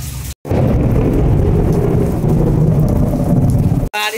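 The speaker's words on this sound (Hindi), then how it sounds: "तो आज देखिए बारिश बहुत तेज हो रही है।" Loud, dense monsoon rain roars steadily with a low rumble, broken by two brief cuts, under occasional muffled voices.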